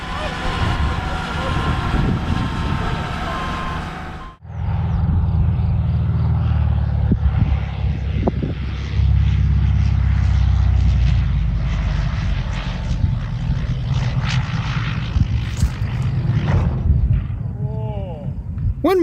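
A passenger airliner aborts its takeoff on an airport runway in Angola, a loud sustained engine roar that drops out briefly, then returns as heavy low rumble while the plane decelerates, with scattered clattering near the end.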